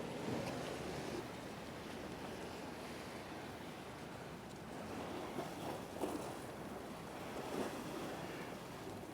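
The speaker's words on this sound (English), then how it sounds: "It's a restful, rhythmic music to these waves, and then interrupted occasionally by these motors, deep, throttled, bass, 100, 200 cycles per second sound." Waves washing in a Venice canal setting, a steady broadband wash with gentle rhythmic swells and wind, while the deep, throttled bass rumble of motorboat engines is hard to pick out beneath the water.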